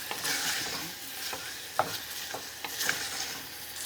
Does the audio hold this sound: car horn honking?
no